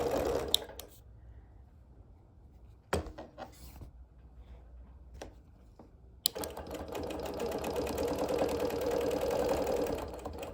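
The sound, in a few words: sewing machine doing background quilting on appliqué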